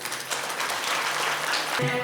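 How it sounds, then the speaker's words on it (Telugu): An audience at a Hanuman bhajan gathering at a Sri Anjaneya Swamy temple claps, a dense, steady round of applause that stops abruptly near the end, when a tonal sound begins. "ఒకసారి రాకమచర్ల వెంకటదాస్ గారి క్లాప్స్ కొట్టాడు"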